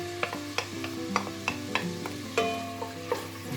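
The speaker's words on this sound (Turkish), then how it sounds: "Katı yağımız eridi. Şimdi soğanları şöyle veriyoruz." Onions hitting melted shortening in a pan, steady close sizzle and frying with repeated stirring scrapes and taps, no talking.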